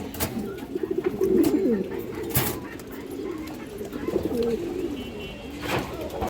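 Indian Highflyer pigeons coo softly in low, throaty bursts close by, over a steady background murmur, with a few knocks and rustles.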